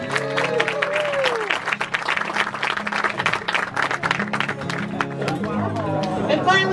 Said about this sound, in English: Give Merlin a round of applause.